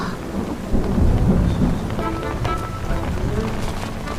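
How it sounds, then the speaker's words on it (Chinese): Steady rain pours over a low, rolling rumble of thunder in an outdoor scene from a historical drama, with scattered raindrop taps standing out against the constant wash. "怎么下雨了？"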